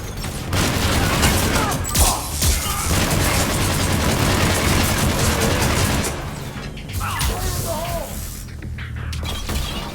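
Dense, continuous gunfire and explosions fill a Mass Effect 3 battle, loud and close throughout, with a brief lull near the end before the shooting resumes.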